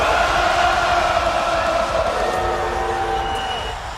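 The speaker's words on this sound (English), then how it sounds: "Crowd's going crazy for Seth." Arena crowd in the wrestling video game WWE 2K24, a loud, dense roar of cheering with sustained vocal tones that swells and then eases slightly toward the end.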